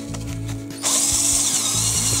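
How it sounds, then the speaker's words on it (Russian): A power drill bores a hole in a wooden board, starting with a brief low whir and then biting in with a loud, sustained high-pitched grinding that runs to the end. "Почти всегда, когда мы сверлим отверстие в любой доске,"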